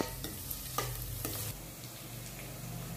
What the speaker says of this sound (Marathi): कांदा अशा पद्धतीने परतून चांगला शिजवून घ्यायचा आहे